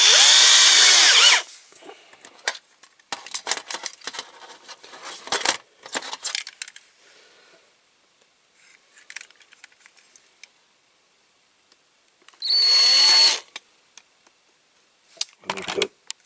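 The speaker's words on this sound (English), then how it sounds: "I want a small drill to start" Short bursts of a small power drill with a small bit whirring into a die-cast Corgi toy moon buggy, with bright high-pitched whine, separated by clattering and handling noises of tools and parts nearby.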